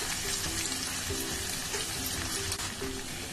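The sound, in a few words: frying ginger garlic paste in a pan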